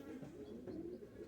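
Crossbred pigeons of a new breed in progress cooing: a soft, low, brief rolling coo, faint and close, with no talk.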